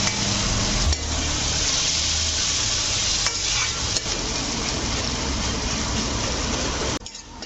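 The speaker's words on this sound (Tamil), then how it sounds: "இந்த தக்காளி நல்லா ஜூஸியாக வதங்கி வரட்டும்." Tomatoes and onions sautéing for chicken biryani, a steady loud sizzle with stirring scrapes throughout, briefly dipping near the end.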